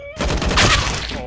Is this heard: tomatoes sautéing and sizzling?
no